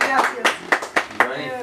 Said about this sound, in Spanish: Un aplauso bien bonito.